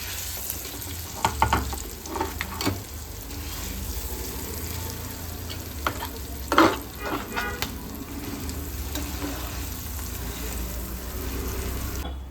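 Spice paste sizzles and fries in hot oil while being stirred for a crispy sandwich filling, a steady close crackle with a few louder bursts of stirring and spattering.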